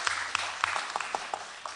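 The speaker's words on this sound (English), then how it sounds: "please hold your applause" At a town meeting, a few scattered hand claps sound from the floor. The applause is faint, sparse and irregular, about a handful of distinct claps over a low room background.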